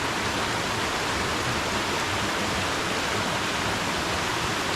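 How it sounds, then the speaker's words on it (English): A waterfall on a hike in the Iguaçu forest reserve, heard as a loud, steady, broadband rushing roar of falling water, continuous and unchanging, with no voices. "We are located in the first waterfall right now."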